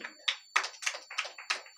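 Children at a vacation Bible school prize distribution clap in a brief burst of about seven quick, close, bright claps, with a steady high electronic tone running underneath.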